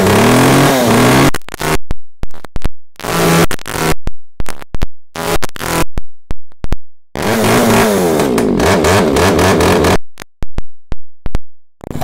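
A petrol chainsaw starts and revs in repeated loud bursts, each rising sharply and then cutting off into short silences over about twelve seconds, with no voices.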